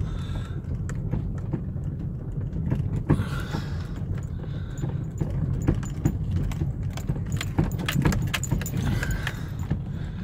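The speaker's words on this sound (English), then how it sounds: "put it in second gear and just let it tick over" A car rolls slowly in second gear along a bumpy track to a fishing lake, its engine ticking over in a low, steady rumble while loose items rattle and jangle irregularly inside. No one talks.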